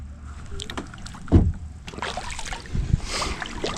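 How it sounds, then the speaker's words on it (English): A canoe is paddled along a creek while scouting for beaver sign, with close, intermittent paddle strokes, splashes and knocks against the hull, one sharp thump standing out. "I'm gonna paddle down this real quick."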